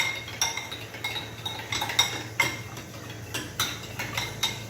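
A fork whisks eggs with a pinch of salt in a bowl, making quick, steady metallic clinks and taps against the rim at close range, with no talking.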